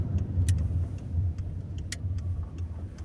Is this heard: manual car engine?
yes